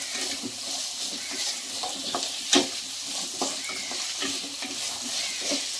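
Tomatoes sizzle steadily in a hot pan for a cashew pakoda curry, with a soft continuous fry broken by a few scraping stirs and one sharper clink of the spoon.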